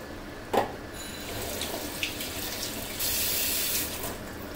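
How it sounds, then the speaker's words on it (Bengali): Blended mango and mint leaves being poured into a pot make a continuous liquid splash and trickle, with a brief clink near the start and a louder pouring stretch toward the end. "যে পুদিনা পাতা আর আমটা আমি ব্লেন্ড করে রেখেছিলাম সেটা পুরোটা আমি ভালো মতন দিয়ে দিচ্ছি"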